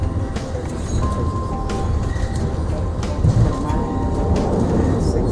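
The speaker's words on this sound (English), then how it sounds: "You see the train back there?" A train rumbles steadily in the background on a trip, low and continuous, while people talk over it nearby.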